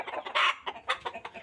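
KUB village chickens in a coop cluck close by in quick, uneven bursts, several short calls overlapping in a brief, busy stretch.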